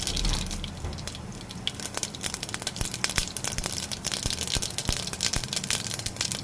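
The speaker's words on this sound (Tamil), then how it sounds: "கடுகு உளுத்தம் பருப்பு பொரிஞ்ச உடனே வெங்காயம் ஆட் பண்ணிக்கோங்க" Mustard seeds and urad dal sputter in hot oil for sambar, a dense, continuous crackle of close popping and sizzling with no voices.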